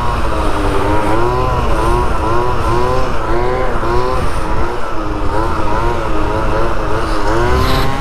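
Yamaha YZ125 two-stroke dirt bike held in a wheelie, its engine a loud, close, buzzing whine rising and falling in pitch with repeated throttle changes throughout, no voices over it.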